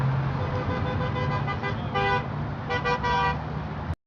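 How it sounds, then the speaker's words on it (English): Several car horns toot and honk in overlapping bursts amid passing road traffic, fairly loud and close, cutting off abruptly at the end. "If you listen real carefully, you could hear some honking on that film."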